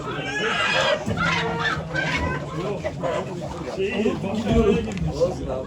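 Chickens and a rooster cluck in a busy stream at a poultry auction in Ankara, nearby and continuous beneath people talking over them throughout.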